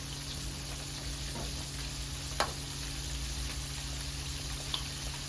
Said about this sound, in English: I'm going to continue to fry this fish up